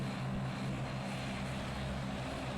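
Aircraft taxiing in a Roblox-style flight game, a continuous low propeller engine drone with steady hum, even and unbroken, no talk over it.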